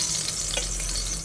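Chillies fry in hot oil inside a pressure cooker, giving a loud, continuous sizzle and crackle with a light stirring scrape, no voices.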